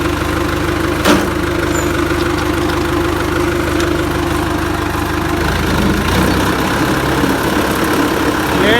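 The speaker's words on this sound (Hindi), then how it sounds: "ट्रैक्टर लेके जा रहा था ज़मीन की तरफ हाल चलाने के लिए" A farm tractor idles in a Pakistani village before heading out to plough a field, a loud, close, steady low engine rumble with a brief knock near the start and a slight change in tone toward the end.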